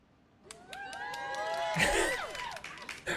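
A crowd of video game characters in Honkai: Star Rail cheers and whoops, the voices building from faint to a loud burst of overlapping shouts before tapering off, lasting a few seconds.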